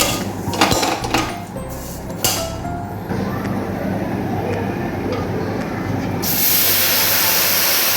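Vermicelli (shemai) sizzling in a pan, a steady close frying hiss with a few clinks of utensils near the start, continuing alone throughout.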